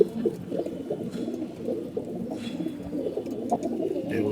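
A pigeon coos repeatedly in a steady, low, rolling murmur, close by and fairly loud; it is a domestic pair with a young squab, and no one speaks.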